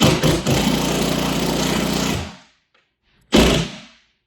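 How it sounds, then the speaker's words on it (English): An impact drill driving an anchor into a sheetrock wall whirs loudly for about two seconds, cuts off into silence, then gives one short final burst that quickly fades. "So now I'm going to drill it in. This is an impact drill."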